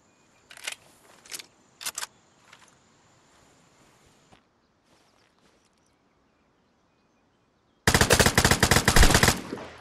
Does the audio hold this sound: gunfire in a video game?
yes